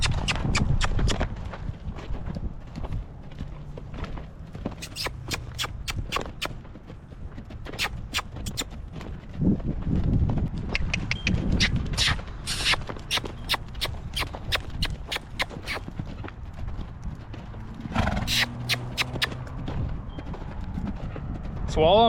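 Hoofbeats from a team roping horse moving into a lope on dirt, a steady rolling rhythm of thuds heard up close over a long stretch.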